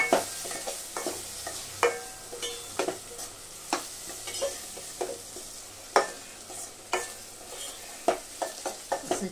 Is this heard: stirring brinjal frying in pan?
yes